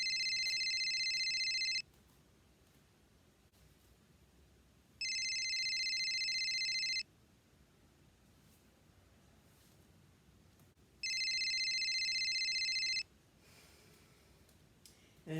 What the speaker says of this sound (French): Monsieur, je pense que votre sonnerie à téléphone, ouais, pouvez-vous l'éteindre, s'il vous plaît?